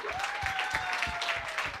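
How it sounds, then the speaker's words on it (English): A crowd gives a round of applause for a woman at a fistula charity gathering, an even stretch of clapping with a faint sustained tone running underneath. "Can we give a round of applause to this woman?"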